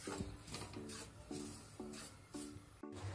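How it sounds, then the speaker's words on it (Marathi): Wheat flour dry-roasts in a pan without oil while being stirred, giving soft, rhythmic scraping and rubbing strokes about every half second, close and quiet with no talk. "आता या पिठाला आपण चांगलं भाजून घेऊ। बिना तेलाचंच भाजायचंय आपल्याला।"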